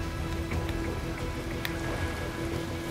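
Steady rain falls throughout a rainy scene in the video game Metal Gear Rising, a continuous hiss with scattered soft droplet taps and a faint sustained tone beneath, with no talking.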